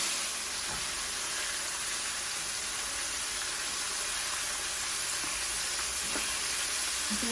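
Battered, sauce-marinated minced meat deep frying in hot oil, giving a steady, continuous sizzle and hiss with faint bubbling crackles throughout, close and even in level with no talking.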